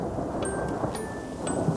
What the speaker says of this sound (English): It's raining all of a sudden.